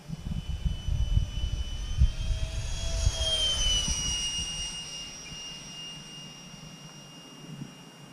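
A Freewing F-105 Thunderchief radio-controlled jet with a 64mm electric ducted fan makes a fast flyby: a loud rising and falling turbine-like whine that peaks overhead, then fades away over open-air background rumble.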